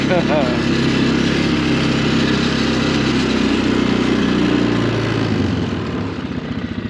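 A quad ATV engine idles steadily and fairly close throughout, a continuous mid-pitched motor drone that eases slightly near the end, with some background voice over it.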